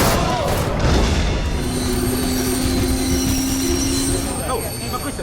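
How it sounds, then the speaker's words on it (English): A tram rides along its rails with a loud continuous rumble and rattle and a sustained wheel squeal partway through, fading slightly toward the end. "She hops on a tram, trying to escape."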